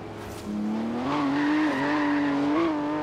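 A boxer-engine car's rear slides out in Forza Horizon 3, a sustained engine drone with rising and falling pitch over about two and a half seconds, tires squealing loudly and close.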